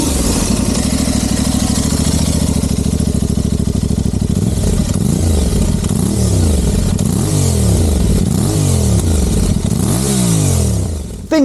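An Aprilia Tuareg 660 motorcycle engine with a 270-degree crank, deep and growly, revs up and down repeatedly, loud and close, no voices.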